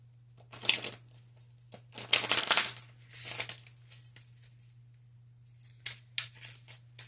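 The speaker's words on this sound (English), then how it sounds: "Let me get a good shuffle." Several crisp bursts of cards being shuffled, riffling in short bouts with pauses between, close and fairly quiet over a low steady hum.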